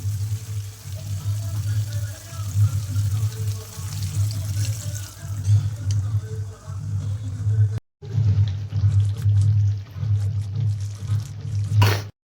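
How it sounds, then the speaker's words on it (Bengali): Heated powdered milk poured into a spiced prawn curry (chingri malaikari) with potato, giving a steady liquid splashing and trickling over a low stove hum, with a brief break partway through. "এরপর আমরা দিয়ে দেবো গরম করা পাউডার দুধ।"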